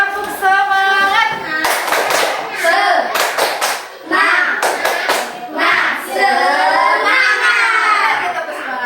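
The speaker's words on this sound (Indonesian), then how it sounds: "Tepuk semangat dulu ya" Schoolchildren clap in a rhythmic cheer in a classroom, bursts of sharp group claps alternating with chanted voices, loud and close, with several pauses between claps.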